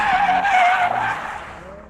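A 600hp BMW G87 M2 drifting in drift mode at Santa Pod, tires squealing in a loud sustained skid close by that slowly fades, with no talking over it.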